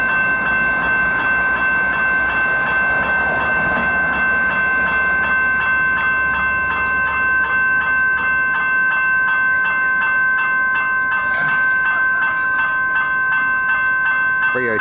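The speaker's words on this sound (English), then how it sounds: "I found that my train came in a bit slowly." A Melbourne suburban train arrives slowly at an Upfield line station, its steady rolling rumble and high ringing tones from the level crossing bell running loud and continuous, with a couple of sharp clanks near the end.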